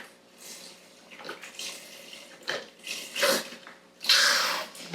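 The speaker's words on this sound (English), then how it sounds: "And then what goes in is 4 cups, so that's a whole quart of low salt vegetable stock." Low-salt vegetable stock, a full quart, splashes into a pot on a stove in several uneven pours, each a short gurgling rush, the final one loudest, with quiet gaps between.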